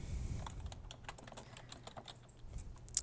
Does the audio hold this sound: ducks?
no